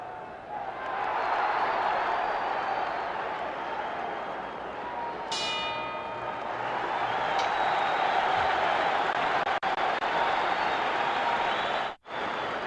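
Boxing arena crowd at a heavyweight bout, a continuous roar of cheering and applause filling the background, with a brief ringing bell tone partway through.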